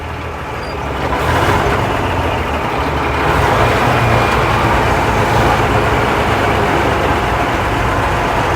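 A 1958 Leyland PD2 half-cab double-decker bus with manual transmission drives along, its engine a loud, steady low rumble that swells slightly as it pulls, heard close from inside with no talking.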